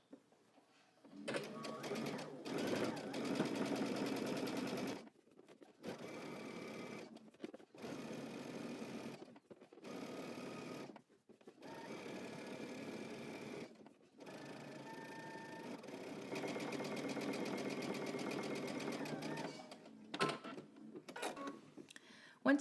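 A sewing machine understitches a skirt facing close to the edge in a series of quiet, even runs of rapid stitching separated by short pauses.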